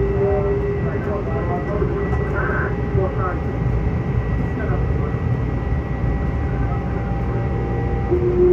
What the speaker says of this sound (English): And we got a Long Beach bound train approaching.